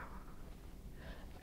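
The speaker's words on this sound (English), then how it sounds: "you can sneeze or cough into a tissue paper" A single sharp sneeze bursts out loudly at the very end, after quiet room tone with no other sounds.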